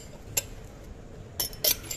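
Stackable drinking glasses from a kitchen-goods store display clinking as they are handled, a few sharp bright clinks spaced apart with a cluster near the end, close and clear over quiet room tone.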